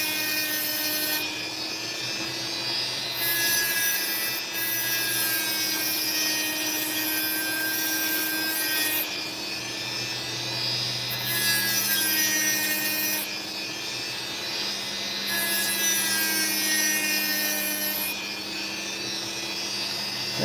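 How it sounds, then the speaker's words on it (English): A saw cuts through a piece of opal with a steady, close whining drone, its tone shifting periodically as the blade works through the stone. "cut this into three very small stones"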